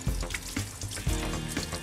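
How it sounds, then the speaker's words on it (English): Water runs from a kitchen tap while squid is rinsed and skinned by hand, a steady gushing splash with uneven bursts and knocks as the flow is interrupted, close and fairly quiet. "You just do that under running water"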